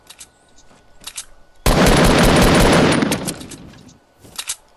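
Loud, sustained burst of rapid automatic gunfire in the video game Fortnite, roaring for over a second before tailing off, with a few quieter shots and faint game sounds around it and no talk.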